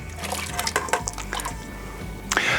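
Potatoes drop one after another into a pot of cold water, making a quick series of wet plops, splashes and drips, close and clear over a low background hum.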